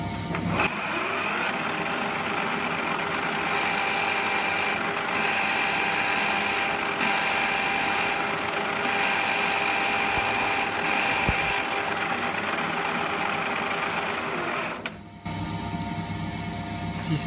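A drill runs at 3000 rpm boring into an aluminium disc, a steady loud mechanical whine and rattle lasting throughout, easing briefly near the end before carrying on.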